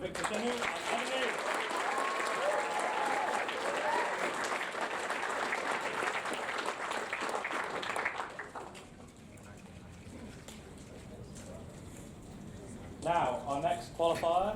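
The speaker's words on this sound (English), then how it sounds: "Let's have a big round of applause for Victor Chaney and Chaney." Applause rises from the audience at a UK Rubik's Cube Championship 3x3 final, sustained for several seconds under a talking announcer before fading. Speech continues over a quieter background, ending with a brief burst of clapping.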